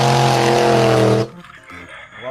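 Toy monster car giving a loud, buzzing motorized whine that cuts off abruptly after about a second, followed by quieter clicks and rattles.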